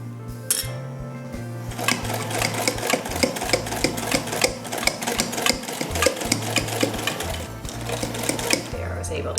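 A sewing machine stitches across the elastic of a medical face mask with a fast, steady mechanical whirring and clatter. The sound is close and continuous, with brief changes in pace.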